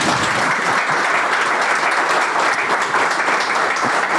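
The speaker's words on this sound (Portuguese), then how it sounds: "E agora vocês batem palmas." A live comedy audience gives steady, dense applause, loud and close, holding at an even level throughout with no voices on top.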